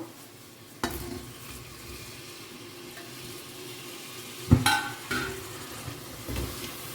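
Onions and then tomatoes frying in a pan at home, a soft steady sizzle with occasional stirring scrapes and one sharper clatter partway through, no talking.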